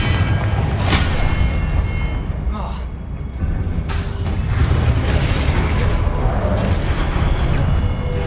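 Spell blast explosions in Hogwarts Legacy gameplay, a loud continuous rumble of booms and bursts with sharp crackling hits over dense low noise throughout.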